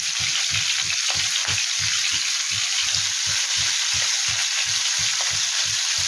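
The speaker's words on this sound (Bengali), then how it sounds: "এবার এটা একটু হালকা করে ভেজে নেব" Cauliflower lightly frying with salt in a pan for a korma gives a loud, steady sizzle, with a regular beat of stirring knocks throughout and no talking.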